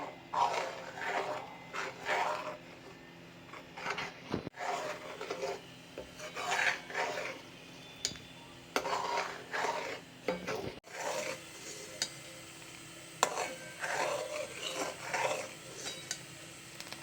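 A thabdi peda mixture stirred in a pan, with repeated scraping and rasping strokes against the metal surface coming in rhythmic bursts with short pauses, close and fairly quiet.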